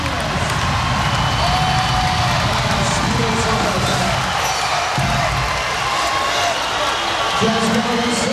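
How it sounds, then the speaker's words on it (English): A volleyball crowd at a Big West semifinal, Hawaii versus UCSB, roars in a loud, sustained wall of cheering that holds steady throughout, with a commentator talking over it. "And the crowd erupts."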